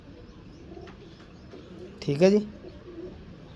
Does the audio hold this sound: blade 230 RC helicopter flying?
no